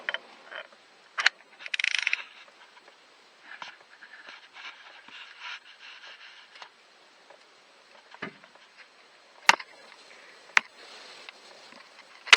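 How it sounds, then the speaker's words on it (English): Sparse metallic clicks and ticks from a ratchet on an extension bar loosening a bolt on a Renault Megane 4 RS Trophy EDC DW6 gearbox, with scattered sharp taps and light handling noise. "Just have to loosen up a bit with the other ratchet."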